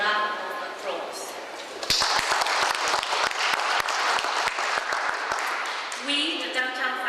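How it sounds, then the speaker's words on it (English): An audience at a media conference in a Toronto cultural centre breaks into steady applause after a voice, with brisk clapping filling several seconds and then tapering as another voice begins. "Let's give a round of applause."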